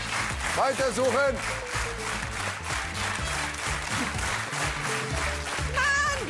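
Studio audience applauding on a German game show, steady clapping throughout with excited voices, whistles and talk layered over it.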